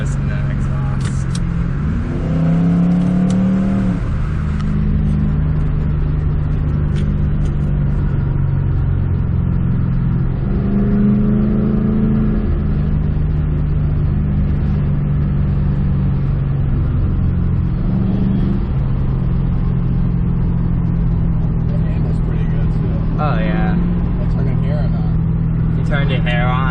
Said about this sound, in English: Just gonna listen to the exhaust.